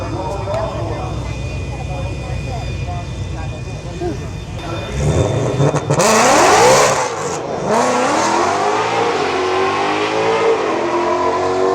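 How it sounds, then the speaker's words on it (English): Ford GT500 cars at a drag race, a steady engine drone that swells into a loud roaring rev and rising acceleration sweep, then continues as a strong engine whine, with people talking over it. "GT500s just sound hellacious"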